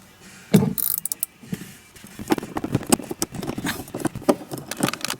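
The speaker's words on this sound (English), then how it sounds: "we'll go ahead and tighten that up with a 13 millimeter" A ratchet with a 13 mm socket tightens a nut on a battery cable connection in a DeLorean, giving quick bursts of sharp clicking that come in several short runs separated by brief pauses, close by with no talking.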